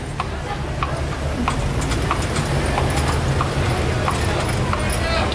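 Mule hooves clip-clop steadily on French Quarter streets while pulling a carriage, a regular near rhythm under street noise and ongoing talk.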